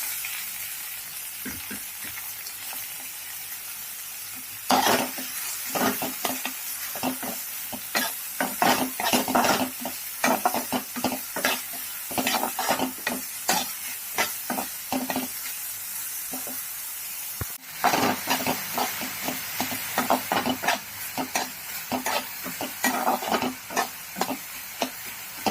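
Chopped onion sizzles and fries in a pan while being stirred for dal kanda, a steady hiss broken by bursts of scraping and crackling that come and go in clusters, close and fairly quiet, with no talk.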